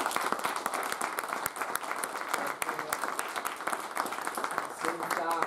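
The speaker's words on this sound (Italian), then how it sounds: "chiederei un bel applauso per i volontari" Applause for volunteers of a community association running minibuses for transporting people, filling the whole stretch as dense, steady clapping from a crowd indoors, fairly loud and continuous with no letup.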